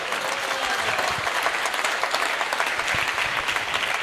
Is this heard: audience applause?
yes